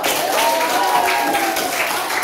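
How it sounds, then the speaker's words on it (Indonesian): A classroom of students claps for a presenting group, a loud, dense burst of applause with a faint tonal voice-like line running under it. "Kelompok ini, tepuk tangan dulu."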